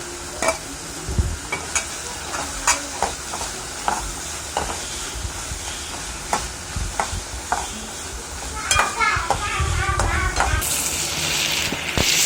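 Tomatoes and chili sauté in a hot pan for kothu parotta, a continuous sizzle punctuated by regular scraping and clacking stirs of a spatula, with a louder burst of hissing near the end.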